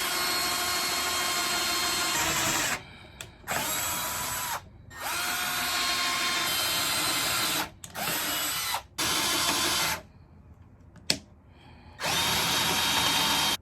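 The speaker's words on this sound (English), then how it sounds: "I drill holes first, pilot holes with the drill" A corded power drill bores a pilot hole through a metal strip a little over an eighth of an inch thick, running in several loud sustained bursts separated by brief pauses and short gaps.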